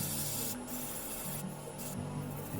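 Continuous scratchy rubbing of 80 grit sandpaper on wood, close and steady with slight strokes, no talking.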